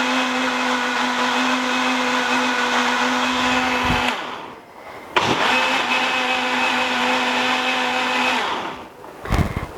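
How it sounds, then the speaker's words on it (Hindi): A blender pulverizing a whole melon with its peel and seeds, a loud steady motor whir that cuts out briefly twice and restarts, running in bursts with no talking. "लेकिन इसको ब्लेंड बहुत अच्छा करना है"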